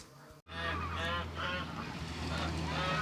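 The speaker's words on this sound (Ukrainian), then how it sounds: "І будемо давати нашим курочкам, гусочкам, качечкам, індикам." Geese honk and ducks quack loudly in a village farmyard as the flock is fed sprouted grain, overlapping calls near and steady over a low background hum.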